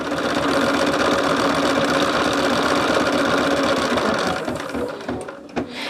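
An embroidery machine stitching a lumbar pillow design runs loudly and steadily with a rapid mechanical chatter, easing off slightly near the end, with no voices.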